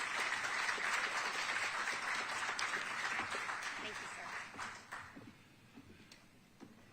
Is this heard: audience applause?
yes